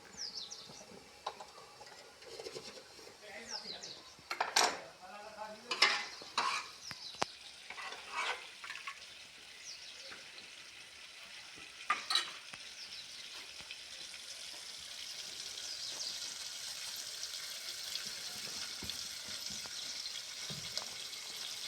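Tempering poured into boiled toor dal and stirred in, with faint sizzling, spoon scrapes and clinks early on, then a soft steady hiss of the dal settling on the stove.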